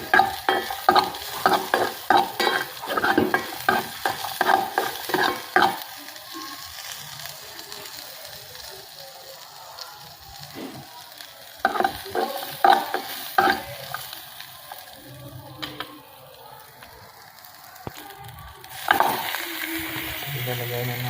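Garlic and onion, with chili and crushed pepper, sauté in a pan for chicken tinola, with a steady sizzle and repeated sharp scraping stirs that come in bursts, pause, then resume.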